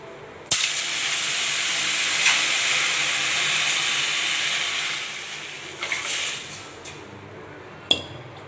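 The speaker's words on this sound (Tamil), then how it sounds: "கொஞ்சம் மிளகாத்தூள் ஆட் பண்ணியிருக்கிறேன். ரெண்டையும் வதக்கிக்கலாம்." Chili powder and spices sautéing for a pepper rasam give a steady loud sizzling hiss that starts abruptly and slowly fades, with a few metal clinks of a utensil near the end.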